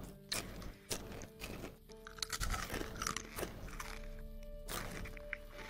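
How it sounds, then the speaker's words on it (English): Crunchy steak being chewed in a medieval fantasy video game roleplay, with repeated loud, close crunching bites and mastication noises in an irregular rhythm, no talking over them. "Sorry, the steak's kind of crunchy today."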